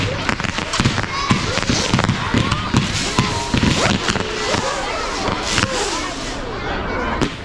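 Vulcan multicoloured Hummer fireworks go off in a dense, loud barrage of crackling bursts and whistling hums at an outdoor display in Liverpool, with crowd voices audible underneath.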